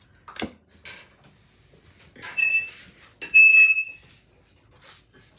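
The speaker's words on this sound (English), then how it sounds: "Excuse that noise, it's my stool." A stool squeaks as someone shifts on it, giving two short, high-pitched creaks close by, separated by quiet moments, with faint rustling before and after.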